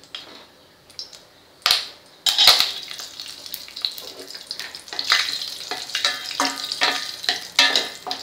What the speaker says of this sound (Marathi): आता आपण यात काजू आणि बदाम थोडे गरम करून घेऊया